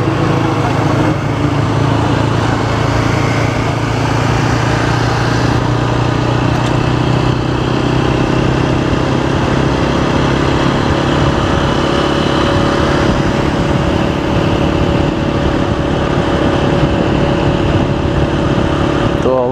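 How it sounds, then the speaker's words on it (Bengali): A group of Yamaha motorcycles rides together on a Sunday outing to Kolaghat, a loud continuous engine drone with steady rumbling and wind noise and no clear breaks throughout. "তো অবশেষে আমাদের রাইড শুরু হলো। সামনে দুটো ইয়ামাহা, আমার পেছনে দুটো ইয়ামাহা।"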